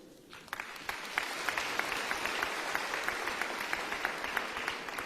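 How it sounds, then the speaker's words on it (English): A resounding round of applause from an audience honouring teachers, steady dense clapping that starts after a brief quiet moment and carries on evenly throughout, moderately loud and without speech. "This truly deserves a resounding round of applause."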